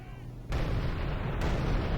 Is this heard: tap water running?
no